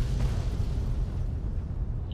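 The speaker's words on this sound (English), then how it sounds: "You secondary explosions better be popping out there." Explosions in the video game Fallout 3 come through as a low, continuous rumbling roar with a dull boom near the start, moderately loud with no voices.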